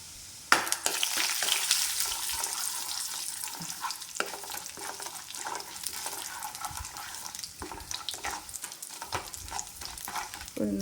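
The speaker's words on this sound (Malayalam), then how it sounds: "കടുകൊക്കെ പൊട്ടിയിട്ടോ അപ്പോൾ ഞാനതാ ഒരു സ്പൂണ് ഉഴുന്നും പരിപ്പാണ് ഇട്ട് കൊടുക്കുന്നത്" Mustard seeds crackle and urad dal with toor dal fries in hot oil in a pan, made while cooking jackfruit thoran. The sizzle runs bright and steady throughout with scattered sharp pops and light stirring, and no voices.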